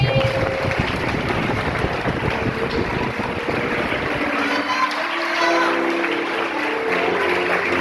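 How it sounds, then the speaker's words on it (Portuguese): Steady, dense clapping from a church congregation fills the space, a broad wash of applause that continues throughout with some voices mixed in. "Aplauda o nome do Senhor Jesus."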